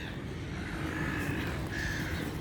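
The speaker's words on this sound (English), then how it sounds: "surrounded by seagulls" Seagulls and ibis at Ian Dipple Lagoon on the Gold Coast under an overcast sky, giving a couple of short, faint calls over a steady outdoor background hiss.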